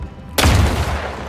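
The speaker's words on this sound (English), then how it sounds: "Oh, just explode, please" A single sudden explosion in the sci-fi game Outer Worlds 2, a loud close blast that booms out abruptly after a quiet moment and then trails off in a heavy rumbling decay, with no speech.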